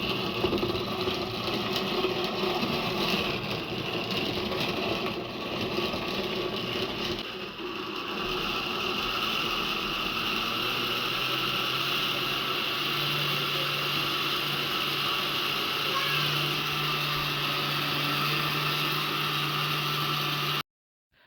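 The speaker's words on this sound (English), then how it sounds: "Now we can just put the blender lid on and we can start to blend." An electric blender whirs steadily while it purees carrots and water into a Jamaican carrot juice drink. The close, continuous motor drone shifts slightly in pitch partway through and cuts off abruptly at the end.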